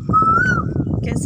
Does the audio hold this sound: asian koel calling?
yes